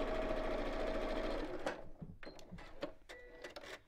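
Sewing machine stitching through the thick layers of a messenger bag, running a steady, slightly slowed motor hum for about a second and a half before stopping, followed by faint handling clicks and rustles.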